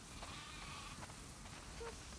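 Sheep bleat on a farm in The Last of Us Part II, a few faint, short calls over a steady background hiss.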